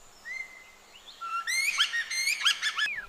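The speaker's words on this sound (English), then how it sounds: "Lyrebirds can even incorporate non-bird sounds they have learned from their environment." Lyrebird song copying environmental sounds: a thin rising whistle, then a dense burst of rapid, harmonically rich chirps and warbles that grows louder over about three seconds, with no voices present.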